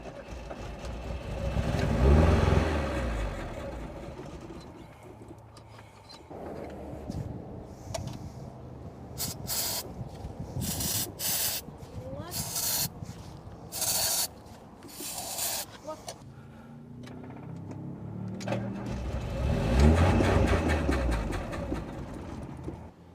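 Vintage Fiat Spider engine cranked by its starter after priming with starter fluid, with bursts of low churning at the start and end that fail to catch, and quieter clicks, spraying and handling noises in between.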